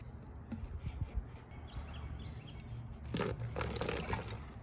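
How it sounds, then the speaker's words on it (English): Plain water is poured from a jug onto metal parts coated with spray lubricants, giving a faint, soft trickle and splatter that grows noticeably brighter and splashier for the last second and a half. "We're gonna pour some water on each part."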